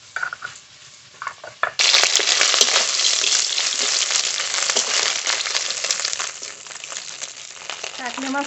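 Kakhle fish frying in a pan of oil for a curry with potatoes: a loud, dense, crackling sizzle bursts in after a quieter stretch and holds steady near the microphone, with faint voice-like sounds early on.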